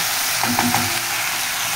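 Aubergines and onions fry in a pan, giving a steady close sizzle and crackle with a few faint stirring clinks, no voices.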